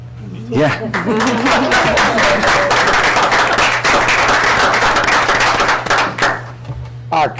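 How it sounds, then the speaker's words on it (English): Dense applause from people at a city council meeting, fast, sharp claps that build quickly and hold loud for several seconds, with voices underneath, before tapering off at the end. "I should clap."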